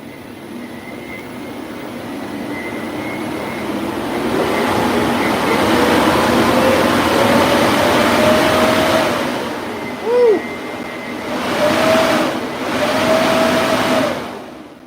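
A drone motor spinning up on a 46-volt supply during a structural test, a loud whirring drone that builds and holds with rising and falling tonal whines near the end, close to the microphone and without clear talk.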